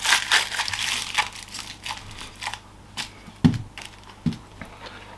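Tin foil is scrunched tightly around an onion for an air fryer onion boil, a series of close crinkling, crushing bursts in an uneven rhythm with short pauses between.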